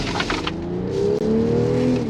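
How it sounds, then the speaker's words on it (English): An inline-six car engine revs up, its exhaust note climbing in pitch and holding a smooth, loud drone up close after a brief dip. "the beautiful exhaust note that you can actually hear"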